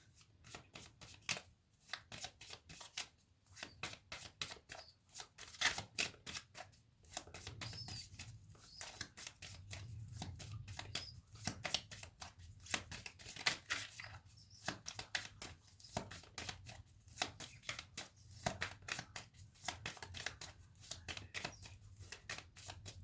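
Tarot cards are shuffled for a reading, a close, quiet run of papery riffles and flutters in an irregular rhythm with brief pauses between bursts. No one speaks.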